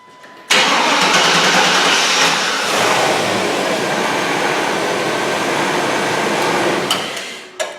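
A Chevy pickup truck engine cranks and catches abruptly, then roars and settles into a loud, steady running rumble before cutting off near the end.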